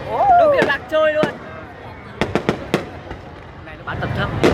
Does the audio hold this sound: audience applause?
no